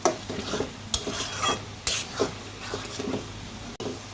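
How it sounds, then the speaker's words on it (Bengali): Spice paste for farm chicken being stirred and fried in oil, a spoon scraping the pot in repeated bursts over a soft sizzle, close and unaccompanied by speech. "আমি প্রায় মশলাটাকে 20 মিনিট কষিয়েছি, অত পরে তেল এসে যাওয়া পর্যন্ত কষাচ্ছি"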